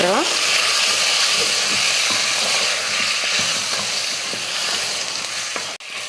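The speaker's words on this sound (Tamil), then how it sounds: "மஞ்சள் தூள் போட்டு உப்பு போட்டு வதக்கியாச்சு" Chicken with turmeric powder and salt sautéing in a pan for a chicken kulambu, a loud continuous sizzle with stirring scrapes, a brief clatter near the end.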